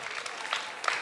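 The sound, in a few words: audience applause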